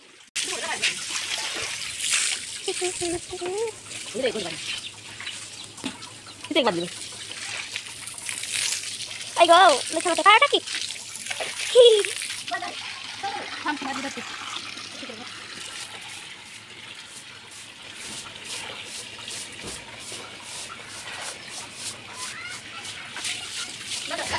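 Water splashes and trickles while a house is washed down, with irregular sloshing and pouring near at hand; a person talks at times over the running water.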